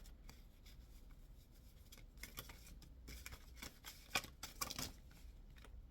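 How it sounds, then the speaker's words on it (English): Tarot cards being shuffled by hand, a soft papery riffling and rubbing that builds into a few sharper bursts near the end, close and quiet with no talking. "I'm just going to start shuffling through and see what comes out for us."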